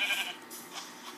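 A Minecraft cow lets out one short, clear low call at the start, fairly close and loud. A couple of fainter game sounds follow after it.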